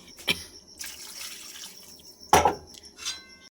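Water splashing into a cooking pot in two short pours, with clinks of a metal vessel between them, close and without speech.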